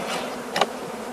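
Honeybees buzzing around an emptied, robbed hive in autumn, a steady close insect drone with one brief louder pass of a bee near the microphone.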